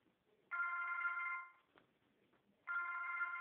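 A telephone rings indoors in two clear electronic trills separated by a quiet pause, each burst sustained and moderately loud.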